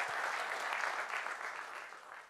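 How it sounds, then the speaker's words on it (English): A demo day audience at a startup pitch event claps steadily for a co-founder, a dense, even wash of applause from a sizeable room, heard faintly and softening slightly toward the end. "let's give Songam a little clap right now"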